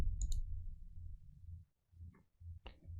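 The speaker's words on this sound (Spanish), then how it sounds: "Le doy clic en abrir" Sharp computer mouse clicks, as if opening a file, come in a few quick separate taps at close range over a low background hum, with short silent gaps between them.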